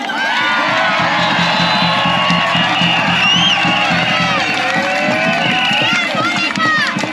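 A large outdoor protest crowd at a Melbourne "Kill the Bill" rally cheers, whoops and whistles loudly for a speaker taking the stage. The roar is sustained and close, with shouting voices throughout.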